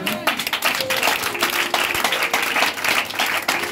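A church congregation applauds together, steady clapping that runs without pause for several seconds, moderately loud and filling the room, with faint voices mixed in.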